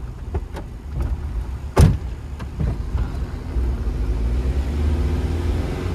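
A car rolls along a narrow village road in the Konkan countryside in rainy weather. A steady engine and road rumble runs throughout, broken by one sharp thump near the middle, and nobody speaks.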